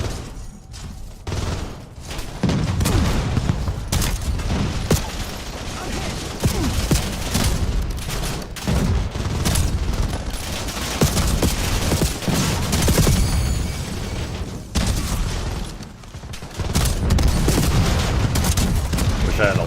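Sustained bursts of rapid gunfire in a first-person shooter firefight, with dense volleys and booms running almost nonstop at close range and a few brief lulls.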